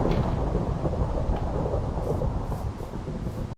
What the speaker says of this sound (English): Okay, so the thunderstorm's not good.